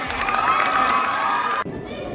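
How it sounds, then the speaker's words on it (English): An audience at a hypnotist's show bursts into loud cheering and shouting over clapping, with excited voices blended into a bright, dense roar that cuts off abruptly near the end, leaving quieter room noise. "Give them both a big round of applause."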